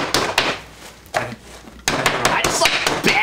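A hammer pounds ice on a cluttered table for an absinthe frappe cocktail, loud wooden thumps and crunching blows in an irregular burst, close up, with people talking around it.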